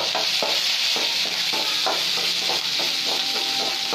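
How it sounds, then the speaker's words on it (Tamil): Green chillies sautéing in a little oil with mustard seeds, urad dal and curry leaves for masala sundal, a bright steady sizzle with rhythmic spatula strokes scraping the pan up close. "பச்சை மிளகாய் போட்டு நல்லா கொஞ்சம் வதங்கணும்"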